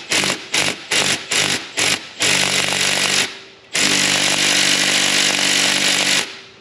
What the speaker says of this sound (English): we're gonna use the 90-degree impact gun, and I'm gonna try to crack this this bolt loose right here